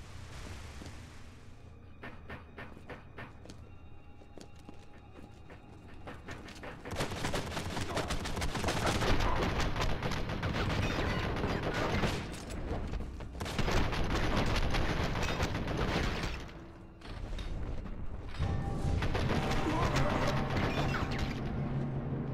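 Pistol fire in the video game Enter the Matrix: sparse sharp shots at first, then a dense, sustained stretch of rapid firing and impacts over a busy game soundscape.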